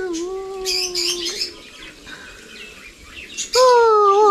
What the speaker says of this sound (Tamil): அழகா இருக்கு லவ் பேர்ட்ஸ்.